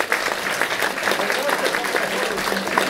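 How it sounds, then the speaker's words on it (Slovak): Wedding guests at a reception in Detva, Slovakia, give the newlyweds a big round of applause. It is loud, dense and sustained, with many hands clapping close together from start to finish. "A ja poprosím jeden veľký potlesk pre mladomanželov."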